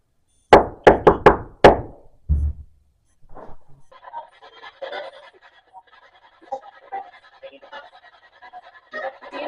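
Five sharp knocks rap in quick succession on a metal surface inside a garage, followed by a couple of duller thuds, then a low scraping, rustling shuffle continues faintly.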